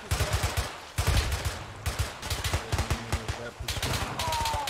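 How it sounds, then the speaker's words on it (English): Gunfire in the Arma 3 World War II game: rapid bursts of automatic and single shots crack in repeated volleys, loud and close, with brief pauses between strings of fire. "Hey, Scorch, we're taking some fire from the bridge tower."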